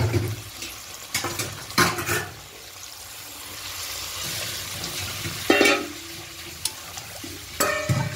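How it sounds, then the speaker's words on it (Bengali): Water is poured into a pan of fish shukto as it cooks, with sloshing bursts and stirring clatter between quieter stretches of low simmering. "এবার বাকি কিছুটা জল অ্যাড করবো"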